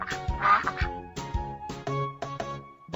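A duck gives a few nasal quacks against light background music, close and moderately loud, without speech.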